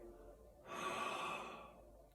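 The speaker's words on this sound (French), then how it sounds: "Soufflez sur vos mains." A single soft, breathy exhalation blown onto cupped hands to warm them during a guided meditation, rising after a quiet pause and lasting about a second before fading.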